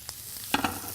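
Mushrooms sizzle in a hot pan with whisky-cream beef cooking nearby, a soft steady hiss broken by two sharp rattling bursts as the pan is shaken, close and moderately loud with no talk.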